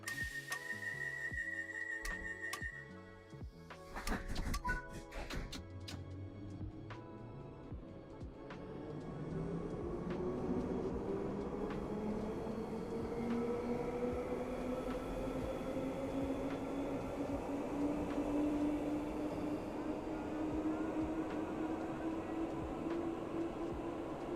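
London Underground Bakerloo line train bound for Elephant and Castle in Train Sim World 4, clattering at first, then a rising motor whine that climbs steadily in pitch as the train pulls away and speeds up, loud and sustained.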